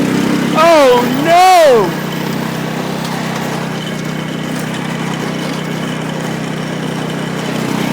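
A lawn mower engine runs at a steady, fairly loud drone while someone shouts briefly over it near the start, then the motor keeps humming alone.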